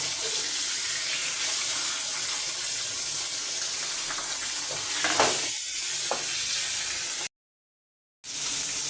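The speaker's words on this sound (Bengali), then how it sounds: "চারটা মাছ এখন ভেজে নিলাম আরও তিনটা আছে" Fish fries in a pan of oil, a continuous close sizzle with a brief clatter of handling midway, then a short gap of silence near the end; no voices.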